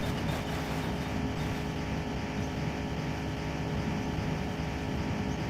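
A steady, droning car engine rumbles without a break in a drunk driving simulator video game, a dense continuous roar at constant loudness.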